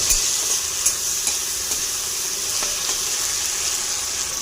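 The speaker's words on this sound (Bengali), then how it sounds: "এবার কাশ্মীরি লঙ্কাকে হালকা করে ভেজে নেব।" Kashmiri chillies fry lightly in a pan, giving a loud, steady bright sizzle with faint periodic stirring taps throughout.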